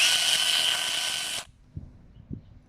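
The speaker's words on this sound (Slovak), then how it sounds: "A vidíme, že aj ten dobeh tej píly je výborný, nakoľko sa hneď vypne." A Parkside PGHSA 20 A1 cordless chainsaw runs at a loud, steady high-pitched whine, then cuts off abruptly and goes almost silent, leaving two faint knocks.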